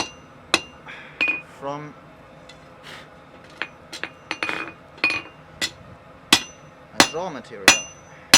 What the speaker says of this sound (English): hammering here, so I'm freeing the boss